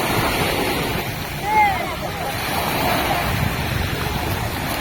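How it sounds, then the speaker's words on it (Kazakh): Sea waves wash onto the shingle beach at Kemer, Turkey, a constant near surf hiss mixed with wind noise, loud and steady, with faint distant voices and a brief chirp. "Мынау Кемердің жағажайы."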